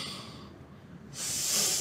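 Person breathing hard on a doctor's request, a close, hissing exhale followed by a louder, forceful breath, alone without talk.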